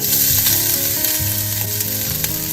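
Ginger frying in hot ghee for a prawn biryani, a loud, dense sizzle that crackles continuously and close by, with faint stirring scrapes beneath it.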